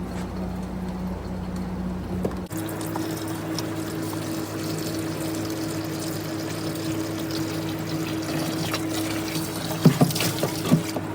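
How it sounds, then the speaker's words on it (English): Siphon drawing water and black beard algae out of an aquarium at a fish shop, a steady gurgling, rushing flow that continues throughout, close by with a few small clatters near the end. "I'm just trying to siphon out all this blackbeard algae"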